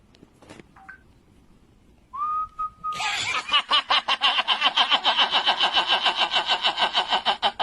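A voice imitates a tractor engine by mouth: a brief whistle-like tone, then a sustained, rapidly pulsing rumble that chugs steadily and loudly.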